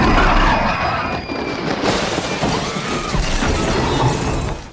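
Glass shattering as the Indoraptor falls through it in a film scene, a loud crash of breaking glass followed by a dense rumbling wash of debris and effects.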